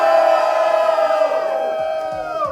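A crowd at a live event in the US cheers and yells loudly together, a sustained roar of many voices that holds steady for a couple of seconds before tapering off.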